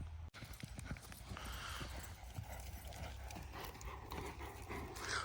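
Horse hooves clip-clop in a loose rhythm over a quiet village outdoor background, fairly close.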